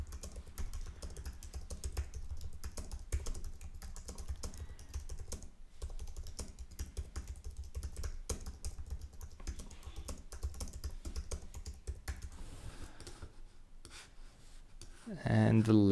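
Steady, rapid clatter of typing on a computer keyboard, close and fairly quiet, running almost continuously with brief pauses, a voice faintly underneath.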